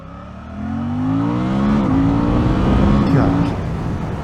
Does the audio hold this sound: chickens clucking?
no